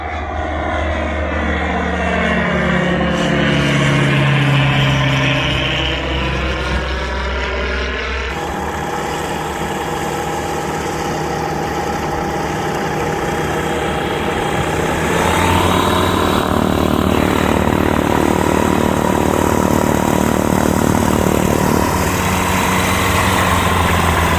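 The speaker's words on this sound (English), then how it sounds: "RV-12 super light plane that Kurt built from a kit" A light kit-built propeller plane's 100-horsepower flat-four engine drones steadily, with a sweeping Doppler-like shift at first, then a constant buzzing hum as it runs on.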